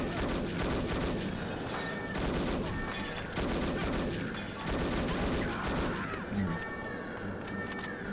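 Rapid assault rifle fire in the shooter The Operative: No One Lives Forever, a dense, continuous stream of loud shots with brief gaps, nearby and sustained across the whole stretch.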